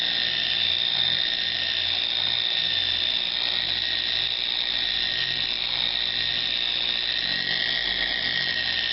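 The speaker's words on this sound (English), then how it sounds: "The tool and the buffing pad is working it into the paint." A random orbit polisher with a buffing pad works wax into the paint of a Lexus, a steady close whirring hum with a bright whine that holds even for the whole time, with no voices.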